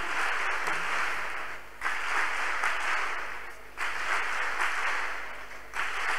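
A congregation at a praise and worship session claps in steady, loud bursts that come in waves about every two seconds, with no talking over it.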